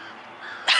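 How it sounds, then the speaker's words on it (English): A big crow caws outdoors near a rooftop, one loud, harsh call bursting in near the end after a quieter stretch of background noise. "I hear a big crow"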